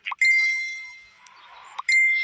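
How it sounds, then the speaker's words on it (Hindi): A phone message notification sounds as two bright, clean electronic chimes, each ringing out with a long sustained tone, close and clear against silence. "आरव कार पार्क कर ही रहा था कि तभी उसके फोन पर एक बीप की आवाज हुई।"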